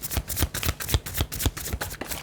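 Tarot deck being shuffled before a card is drawn, a quick run of crisp, rhythmic riffling flutters close up, with no talk.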